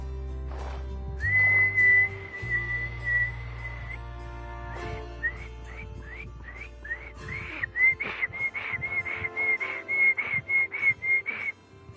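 Someone struggling to whistle: a string of short, breathy whistled notes, first a few sustained tones, then rapid repeated chirpy bursts, fairly close and alone.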